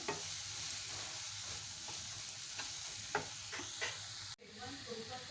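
Onion frying in a pan for Maharashtrian brinjal bharit, giving a steady low sizzle and hiss with occasional light clicks of stirring, and a brief dip partway through before the frying noise resumes.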